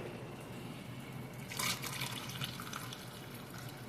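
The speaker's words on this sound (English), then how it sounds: "Okay, I'm gonna add more water into it." Water poured from a tap or cup into a pot of rice for a simple chicken and rice meal; a quiet splashing trickle begins partway through and continues softly over low background hum.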